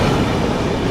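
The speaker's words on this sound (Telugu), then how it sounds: "ఎర్నాకుళం నుండి టాటానగర్ వెళ్ళే ట్రైన్ అయితే వచ్చింది." Ernakulam to Tatanagar train rolling into a station, a loud, steady rumble of wheels and carriages close by with no talking.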